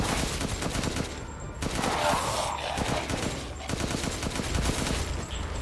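Weapon fire in Resident Evil Village, dense overlapping rapid shots and impacts amid loud game noise, sustained throughout with brief lulls, close and heavy.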